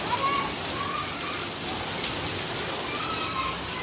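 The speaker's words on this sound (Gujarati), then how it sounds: "એટલો મસ્ત વરસાદ આવે છે" Steady rain falls in a dense, even hiss with scattered drops tapping on a surface, continuous throughout.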